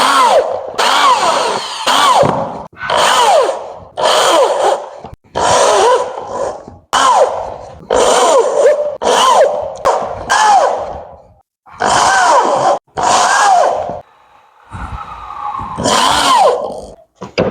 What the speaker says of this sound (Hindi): स्क्रू के साथ से हम इसको फिटिंग कर देंगे